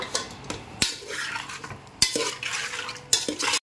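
Biryani mixture with squeezed lemon juice stirred in a metal pot, repeated sharp clanks of a spoon against the rim among scraping mixing sounds and a faint sizzle, no talk.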